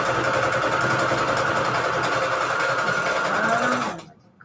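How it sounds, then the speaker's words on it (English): A sewing machine runs steadily and loudly for about four seconds with a dense mechanical whir, then stops abruptly into near silence. "my sewing machine sounds like it wants to like explode though"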